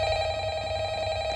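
A telephone rings in the Roblox video game as a steady electronic bell tone, held continuously and fairly loud with no pause across the short stretch, with no voices over it.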